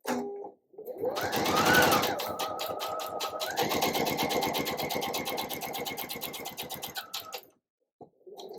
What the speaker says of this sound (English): make sure that my sewing foot and my needle are positioned so that they can sew right on that line